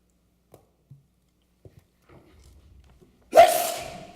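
A single sneeze bursts out loudly near the end, during a redevelopment commission meeting in a quiet room, following a few faint scattered clicks and rustles.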